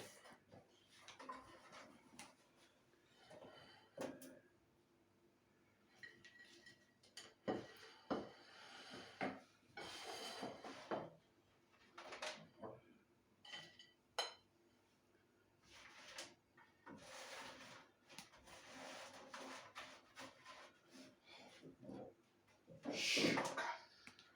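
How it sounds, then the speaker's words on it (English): Dishes and cutlery clatter and knock in bursts while food is plated up in a home kitchen, with chips being served alongside BBQ pulled pork; the sounds come close and intermittent, some loud clanks among quieter handling noises. "I'll just dish up the chips first, make sure we've all got enough."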